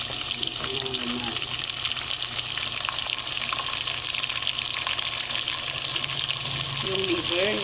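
Pork meat for Ilocano-style lomo lomo sautéing in a pan, a steady broad frying hiss throughout with faint stirring, close and even in level, with a voice briefly heard.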